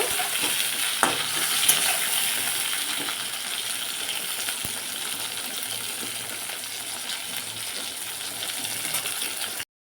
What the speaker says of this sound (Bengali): বেগুনটা খুব বেশি লাল করে ভাজবো না আমি মোটামুটি একটু ভেজে নেব